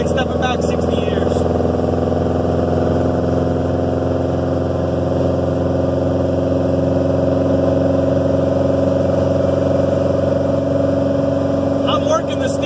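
Restored 1956 Volkswagen Beetle cruising down a road, its engine giving a steady, unbroken drone heard from inside the car at an even pace.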